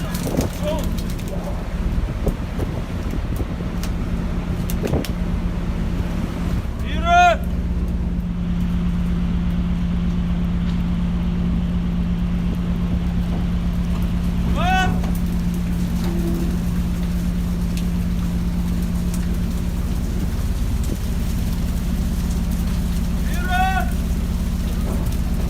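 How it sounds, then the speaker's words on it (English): A low, steady ship engine hum drones throughout with a constant rushing wash of sea waves over it, broken by a few faint chirps. "there is only the sound of the engine and the waves to keep them company."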